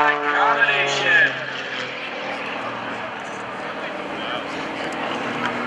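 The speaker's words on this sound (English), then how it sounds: "You sure can hear the difference in the sound between these aircraft." An aerobatic propeller airplane performing at a lake airshow, its engine note sweeping in pitch as it passes, then settling into a steadier drone under an announcer's commentary.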